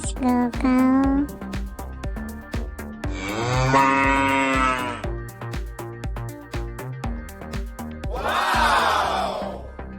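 An animals-crossing fountain toy plays a cartoonish cow moo amid bright electronic tones and jingly music, with the mooing drawn out in a few loud bursts over the busy toy melody.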